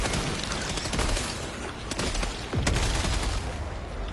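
Sustained automatic gunfire from a deployed sentry turret in Helldivers 2, with dense overlapping shots and booming impacts continuing steadily throughout at close range.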